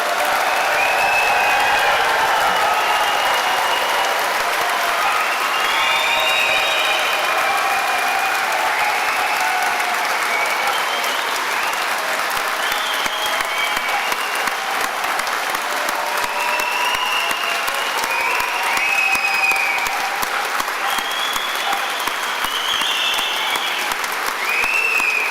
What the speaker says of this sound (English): I really want to hear the loudest round of applause and cheering that you have for these great,